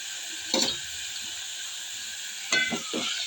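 Coriander seeds frying in oil with mint leaves for mint chutney, a steady soft sizzle with two brief clatters of stirring.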